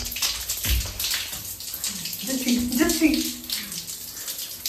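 Water runs from a hotel shower in a continuous hiss with some spattering, while a person speaks briefly over it.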